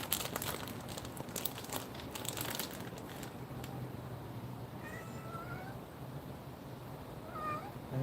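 A cat meows in a home kitchen, several drawn-out cries rising over a steady background of clatter and crinkling.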